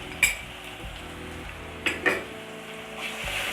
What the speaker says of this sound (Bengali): এটা দিয়ে এবার একটু নেড়ে চেড়ে নেব একটু সময়।